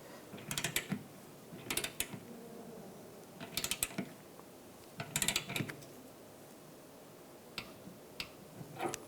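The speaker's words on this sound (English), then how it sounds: "Torque that to 62 inch-pounds." A torque wrench tightening a bolt on a 2004-2009 Toyota Prius radiator, a series of quick clicking ratchet bursts spaced a second or so apart, close and fairly quiet.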